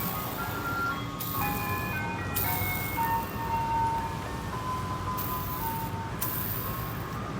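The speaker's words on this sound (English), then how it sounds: "You're ruining my video, you ice cream truck." An ice cream truck's tinkling melody plays steadily at moderate distance, with a constant low rumble of traffic or engine noise underneath.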